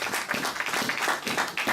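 A church congregation claps and applauds during a sermon, a dense patter of many hands at moderate volume, continuous for under two seconds with no speech over it.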